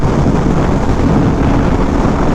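Steady roaring wind buffets the microphone on a motorcycle ride along an open road, a dense, unbroken rush with no voices or distinct engine notes standing out.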